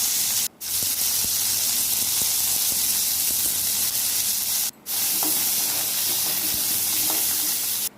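Garlic, curry leaves and dried chillies sauté in hot oil for dry fish kulambu, giving a steady, close hiss and sizzle broken by two brief pauses, with no talk.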